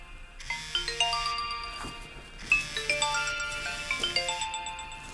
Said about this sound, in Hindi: बेकी तुम्हारी कॉल आ रही है।